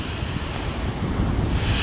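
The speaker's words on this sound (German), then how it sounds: "Weil die Wellen erstens und zweitens der Wind." Sea waves wash ashore at a beach on the Alanya coast while strong wind buffets the microphone, a loud continuous roar of surf and gusts with no voices.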